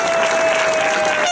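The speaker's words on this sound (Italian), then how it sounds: "il primo applauso va prenotato per voi" Applause from a crowd at an outdoor political rally in a grand city square on a May evening, a dense steady clatter of clapping that fills the whole moment at close range.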